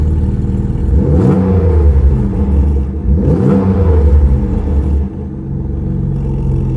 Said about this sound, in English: this is what the car sounds like when it's idling and when the exhaust valve is closed